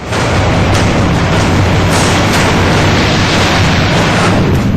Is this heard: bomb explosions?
yes